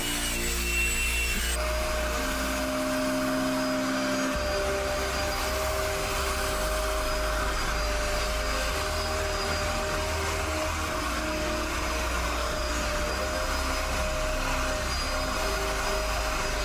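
A Bissell Spot Clean Pro carpet cleaner runs continuously with a loud, steady motor drone and suction whine, the tone shifting slightly early on before holding constant.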